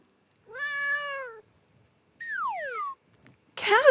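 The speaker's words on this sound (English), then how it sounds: "Cats say meow." A cat meows twice, a long steady meow followed by a falling one, close and clear with silence between, then a brief rougher cry at the end.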